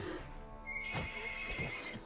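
A horse in the medieval video game Wartales gives a loud, full whinny with a few shaky pulses, heard alone over steady game ambience.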